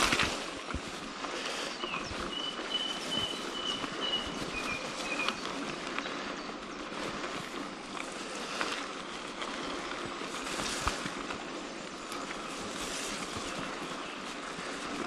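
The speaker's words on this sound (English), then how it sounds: "Don't know if you can hear the birds." Birdsong from the woods on a gravel heath trail, thin chirps carrying faintly through constant wind and tyre noise from a bike ride.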